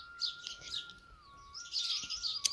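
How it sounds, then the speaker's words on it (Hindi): Several kinds of small birds chirp and twitter outdoors in a rural Indian village, in bright overlapping bursts at moderate distance. A faint steady tone runs beneath them and no one speaks. "ये आपको गांव की अलग अलग चिड़ियाँ नज़र आएंगी"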